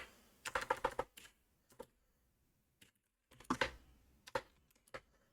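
Bursts of keystrokes on a computer keyboard, clicking in quick clusters with short pauses between runs, close and fairly quiet with no talking.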